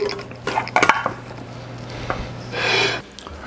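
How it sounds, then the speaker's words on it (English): A Blackstone spatula scrapes and clinks against a pan while lifting toasted garlic bread brisket sliders, giving a few short metallic scrapes and taps followed by a longer scraping sweep, close and fairly loud. "I'm going to try to do that with this Blackstone spatula that I have"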